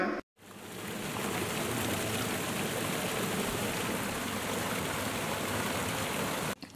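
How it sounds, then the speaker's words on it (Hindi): A waterfall pours in a steady, dense rush of water, holding at an even, fairly loud level from start to finish after a brief silent gap at the opening. "झरना।"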